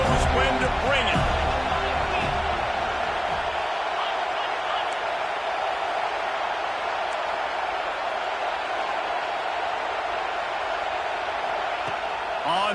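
A football stadium crowd roars steadily ahead of a third-down play, a dense, loud wall of cheering and shouting that holds without a break from start to finish.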